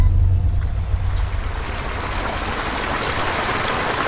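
Sea waves wash steadily past a boat at sea in a continuous broad rush, loud and close, with a low rumble at the start and no clear voices.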